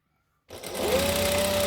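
A sewing machine starts up after silence and runs steadily on a joining stitch, sewing fabric pieces for a Christmas tree skirt with a quarter-inch seam, a close, continuous mechanical whir and rapid needle clatter.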